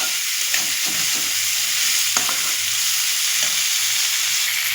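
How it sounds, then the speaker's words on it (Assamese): Onions and tomatoes frying in a pan, a steady close sizzle with occasional stirring scrapes, continuous and alone without voices. "পিঁয়াজটো অকণমান হালকা চাহ ভাজি ল'ম"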